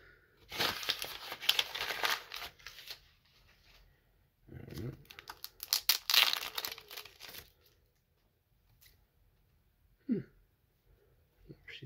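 A foil trading card pack wrapper is torn open, giving sharp crinkling and ripping bursts in several clusters with quiet gaps between them.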